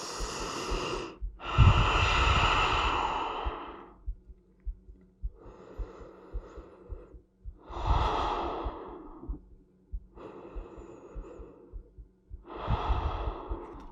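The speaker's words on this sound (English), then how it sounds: "take some deep breaths" Deep, slow breaths during a rest on the mat in a full-body workout, with about five long inhale-exhale cycles, some sharp and snorting, close and clear with quiet gaps between them.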